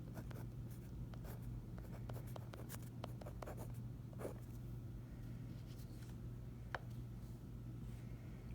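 Pen scratching out math factoring solutions on paper, faint soft strokes in irregular bursts over a quiet hum, with no speech.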